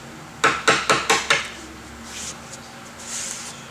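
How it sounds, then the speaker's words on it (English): A flat blade screwdriver is tapped five times in quick succession, each a sharp metallic knock, to drive out staples holding the grill cloth on a Vandersteen Classic speaker, then quiet follows. "You can take your flat blade screwdriver, slide it up against the staple and tap on it"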